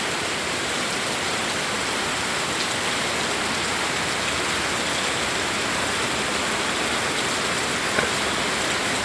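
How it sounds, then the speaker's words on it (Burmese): Heavy mountain rain pours down steadily, a dense continuous hiss of drops on surfaces that holds the same level throughout without any pause or voices. "တောင်ပေါ်မိုးပါဗျရမ်းရွာနေပါတယ်"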